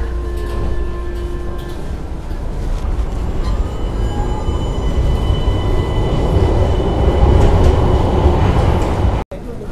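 An Istanbul tram approaches Sirkeci station with a close, rolling rumble that grows louder, and faint squealing tones sound early on.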